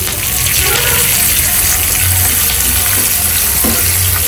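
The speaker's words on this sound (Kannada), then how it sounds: "ಕರಿಬೇವಿನ ಸೊಪ್ಪು ಹಾಕ್ತಾಯಿದ್ದೀನಿ. ಚೂರು ದೂರದಿಂದ ಹಾಕಿ ಸಿಡಿಯುತ್ತೆ." Curry leaves splutter in hot oil in a small pan. The sizzle is steady and close, with occasional pops and some speech mixed in.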